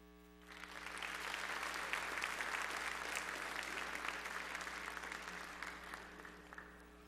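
A middle school band concert audience breaks into applause, rising quickly after a quiet start and sustaining a full round of clapping before tapering slightly at the close.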